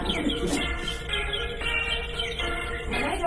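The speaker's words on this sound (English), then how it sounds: "what I don't get is the birds chirping." Birds chirp and tweet repeatedly in the background, with bright overlapping calls and a few cooing notes during a religious lecture, without any talking.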